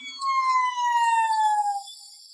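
A cartoon fire truck siren wails in a single clean rising-and-falling tone, loud and alone with no other sounds.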